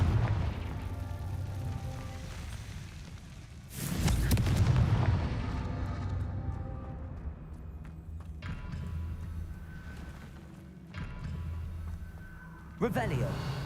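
Booming Confringo fire spell blasts go off in Hogwarts Legacy, deep rumbling explosions that swell and recur several times over a dense game soundscape, with a player's voice speaking throughout.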